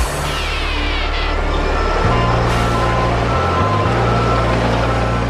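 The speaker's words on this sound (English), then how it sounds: "Garbage trucks then haul the waste to a rail facility." Heavy garbage truck engine rumbling steadily with a repeating reversing alarm tone, loud and close, with shifting engine pitch and no voices.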